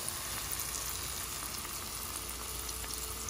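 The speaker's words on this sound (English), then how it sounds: "You just lay them in the grease." Floured fish pieces fry in hot grease, giving a steady, dense, even sizzle with faint bubbling crackles, close and continuous throughout with no voices.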